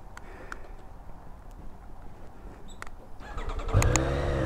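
2022 Triumph Street Triple RS motorcycle engine cranking and catching near the end, a sudden loud rise after a few quiet clicks and mechanical taps.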